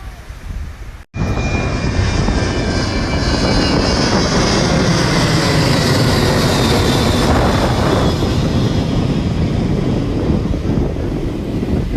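After a short quiet moment, a loud, sustained jet roar swells and holds, the broad rushing noise of an airplane taking off nearby, heard from Mai Khao Beach beside Phuket airport.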